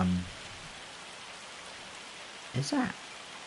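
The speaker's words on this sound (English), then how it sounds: "that's hailstones, isn't it? Look at it bouncing off." Hailstones in Farming Simulator 25 fall as a steady, dense hiss of pattering, with someone briefly speaking at the start and again near the end.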